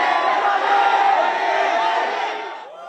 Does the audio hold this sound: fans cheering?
yes